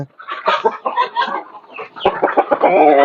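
An Aseel chicken clucks close by in a series of throaty, uneven calls, ending in a drawn-out, rising cackle.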